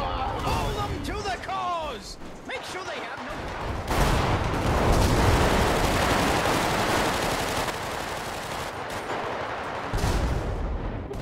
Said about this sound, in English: All out warfare with the Tommy guns in the roof.